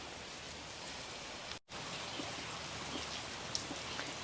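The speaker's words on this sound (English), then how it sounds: "I'm trying to stay under the cover because of the rain" Steady rain falls outdoors over a raised-bed vegetable garden, heard from under a cover as a continuous even hiss with scattered drop ticks and a brief dropout partway through.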